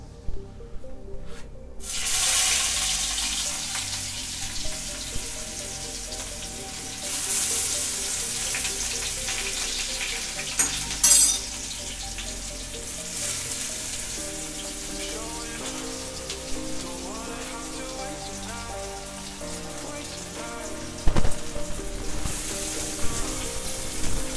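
Onions frying in hot oil, a continuous crackling sizzle with bursts of louder spitting at intervals, close and moderately loud, with no talk.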